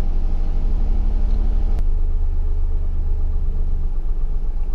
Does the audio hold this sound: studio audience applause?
no